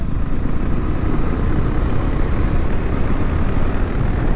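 A KTM 250 Adventure motorcycle engine drones steadily as it climbs a ghat road in a low gear, a loud, continuous roar mixed with wind rush and no talking.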